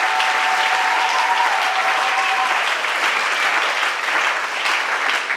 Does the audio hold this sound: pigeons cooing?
no